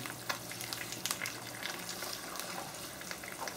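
Eggs frying over easy in a small pan give off a steady, close crackling sizzle with scattered sharper pops, continuous and fairly quiet, with no voices over it.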